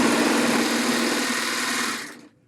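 A serger sewing machine fitted with a standard presser foot runs steadily while clearing clipped threads, giving a loud, even mechanical whir for about two seconds before it cuts off abruptly into silence.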